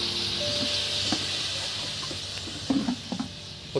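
Water poured into a pan of frying aloo posto, the Bengali potato and poppy-seed dish, giving a steady sizzle and hiss with small clinks and stirring taps near the end.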